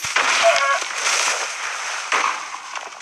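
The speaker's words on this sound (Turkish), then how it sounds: "Onun için bunları patlatacağım." Explosions in a video game blowing up fields and trees: a loud burst of crackling, rumbling blasts with scattered debris pops, a second blast following about two seconds later, with no talk.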